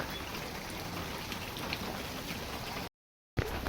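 Steady rain falling close by, a dense even patter that continues without a break apart from a brief moment of complete silence near the end.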